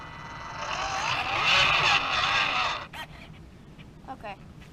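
An RC trail truck's electric motor runs in first gear with a loud, steady whine for about three seconds, then cuts off, followed by a voice speaking briefly.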